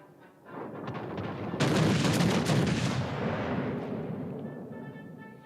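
Warship main guns firing in the World of Warships: Legends naval combat game, a loud broadside blast swelling into a sustained booming roar with rumbling artillery echoes that slowly fade.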